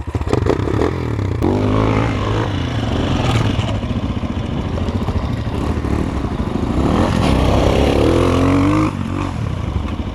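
An enduro motorcycle engine revs loud and close as the bike claws up a steep dirt hill through brush, with rising and falling throttle and clattering over rough ground.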